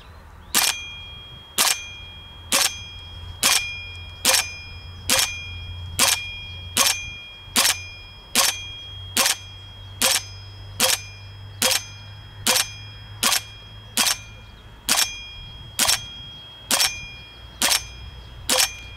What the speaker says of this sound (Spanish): vamos a intentar hacer 30 disparos para que veáis cómo serían 30 disparos en este tipo de réplica